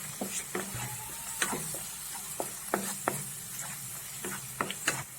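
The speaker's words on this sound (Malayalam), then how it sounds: "ഇനി ഇതെല്ലാം കൂടെ നമുക്ക് നന്നായിട്ടൊന്ന് ഇളക്കി ചേർക്കാം" Garam masala, pepper and turmeric powder are stirred in a pan for egg rice: irregular spatula scrapes and taps over a quiet sizzle, near and fairly soft, with no voices.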